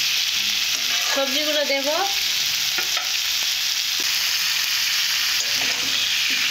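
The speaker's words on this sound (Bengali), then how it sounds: "এইভাবে কিছুক্ষণের জন্য ভেজে নেব, মশলা ছাড়া।" Vegetables for a spinach dish fry in a pan without spices, a steady close sizzle running throughout, with a short spoken phrase early on and a few faint scrapes of stirring.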